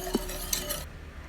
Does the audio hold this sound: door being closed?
no